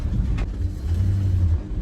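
A truck rolls down the highway after rain, its low engine rumble and road drone steady and close for a brief stretch, with a faint higher whoosh early on.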